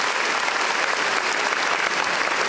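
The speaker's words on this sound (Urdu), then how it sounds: "تالیاں ہونی چاہیے." An audience at a university orientation ceremony for newly admitted students applauds, producing dense, steady clapping that fills the whole moment at a loud, close level.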